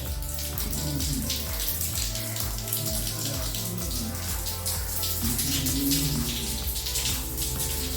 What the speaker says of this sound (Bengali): পাইপটা থেকে জল বেরিয়ে আসছে।